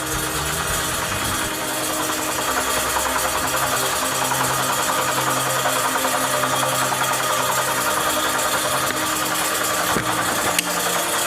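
A homemade spring-driven engine generator runs steadily, a continuous mechanical whir with a low hum and faint rubbing and rattling, holding a constant level throughout with no talk.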